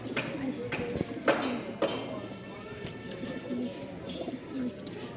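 Giribaz and fancy pigeons of the Rajshahi colour-matched type, kept in a loft, cooing in repeated low throaty phrases at close range, with occasional taps and wing sounds and someone talking alongside.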